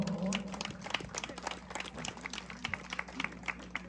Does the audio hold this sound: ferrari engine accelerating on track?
no